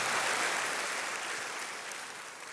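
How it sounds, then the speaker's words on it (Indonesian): Broad, loud applause from a church congregation during a sermon, a steady dense wash of clapping that fades slightly toward the end, with no talk over it. "Tepuk tangannya yang paling meriah buat Tuhan kita"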